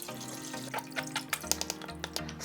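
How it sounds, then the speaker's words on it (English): Finely ground water kimchi ingredients with salted shrimp are poured into a strainer, giving soft, irregular liquid splashes and drips at close range over a low background hum. "I'll pour the finely ground ingredients into the strainer and filter it."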